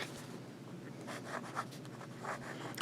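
A Pilot Vanishing Point fountain pen with a wet nib writing on paper, soft close scratchy strokes in short bursts, quiet and alone.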